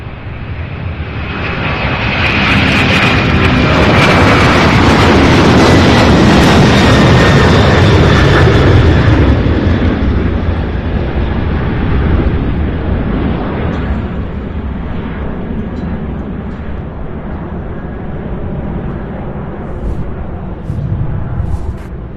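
An MD-11 jet airliner at Louisville's airport swells into a loud, close roar with a rising whine. It peaks in the first half, then fades into a long, rumbling drone as it passes.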